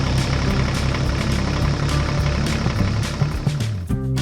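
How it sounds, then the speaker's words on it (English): A red farm tractor's engine hums steadily and close by, a continuous low drone with a brief shift near the end. "His engine hummed steadily and his wheels rolled softly along the road leading to the farm yard."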